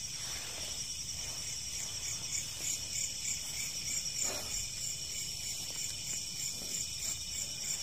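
Crickets and other insects chirp steadily at night at a reputedly haunted spot, a dense high, continuous trill with a few soft knocks and rustles beneath it and no talking.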